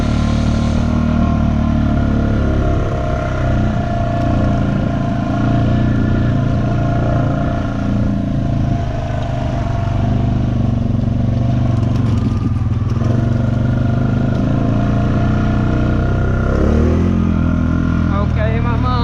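A 420 vehicle engine revs loudly and steadily at close range, a continuous rough drone with clattering crackle throughout and a brief surge near the end, with people talking over it.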